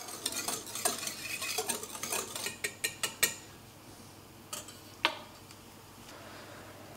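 Cake batter with baking powder and a pinch of salt being mixed in a bowl, a run of quick scraping and tapping strokes that thins out into a few scattered clicks, close and alone with no talk.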